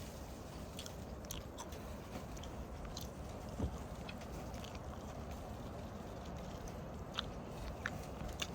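Crisp crunching bites into a deep-fried crispy turkey heart, quiet close-up chewing with a few sharper crackles over steady low background noise, no talk.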